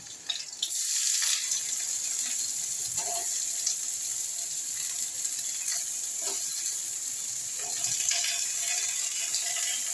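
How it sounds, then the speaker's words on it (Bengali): Chopped onions hiss and sizzle in a pan after a short quiet start, a steady frying noise with occasional faint taps and scrapes. "পেঁয়াজটা অল্প একটু ভাজা হবে"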